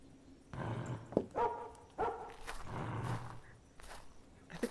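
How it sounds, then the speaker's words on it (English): A dog in the puzzle game After You barks through a loudspeaker in a coded binary pattern, several separate barks spaced apart at moderate volume. "I think the dog's barking in binary."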